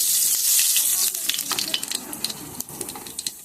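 Nigella seeds sizzle in hot oil left from frying fish, a loud hiss at first that settles into crackling pops and spatters close by.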